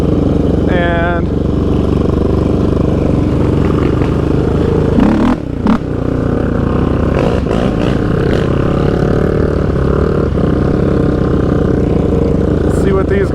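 A Yamaha Raptor 700 Stage 3 ATV at Iron Mountain Park roars nearby, engine droning loud and steady with revving surges, while someone talks over it.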